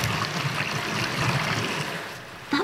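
Water sloshing and spraying steadily inside a running dishwasher as its spray arm spins, a continuous loud rushing wash.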